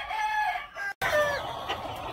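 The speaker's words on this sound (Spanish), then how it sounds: "por aquí les muestro el pollito que vamos a mandar a Texcoco" A young three-quarter Kelso, one-quarter Asil Rakata gamefowl chicken clucks and chirps close by, a string of high, pitched calls broken by a brief silent gap before more calls follow.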